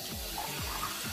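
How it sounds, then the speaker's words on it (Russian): Tap water pouring into a roughly 150–200 gram drinking glass in a home kitchen while making quick blueberry jam, a short steady splashing stream close by. "Набираем воды."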